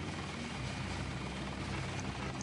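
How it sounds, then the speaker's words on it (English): A helicopter in the video game Deus Ex makes a steady, even rotor drone with a low pulsing rumble, fairly faint and continuous, with no voices. "This helicopter doesn't do anything, by the way"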